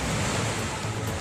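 Muddy floodwater roars through Kargil, Ladakh after a cloudburst, a dense, continuous rushing wash with no break, loud and close throughout.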